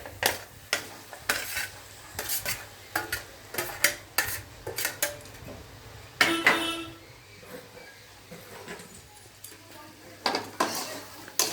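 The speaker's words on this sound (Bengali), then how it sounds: "এবার আমি সোয়াবিনটা আলুটা দিয়ে দিচ্ছি" Soybean chunks and potato pieces get stirred into spiced oil in a pan, with repeated close spoon clatters and scrapes over a soft sizzle.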